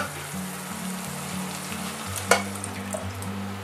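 Shallots reducing in a pan for a Madeira sauce, a steady close sizzle running alone throughout, with one sharp utensil clink near the middle.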